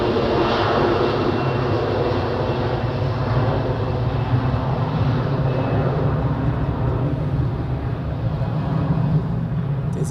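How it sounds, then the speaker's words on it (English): An Airbus A321 takes off at Zurich Airport bound for Milan Malpensa, its jet engines producing a loud, steady, unbroken roar at close range with no voices. "So, takeoff for the A321 off to Milano Malpensa."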